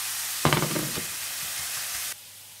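Food fries in a pan on a stove with a steady hiss, opening with a burst of stirring clatter that settles into continuous sizzle, then cuts off abruptly toward the end; no one speaks.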